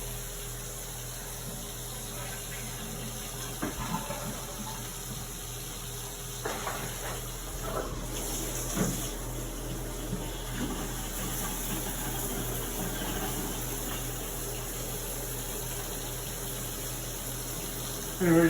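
Faucets run in a newly built home during an inspection, giving a faint, steady hiss of flowing water with a few brief clunks and splashes, low in level and continuous throughout.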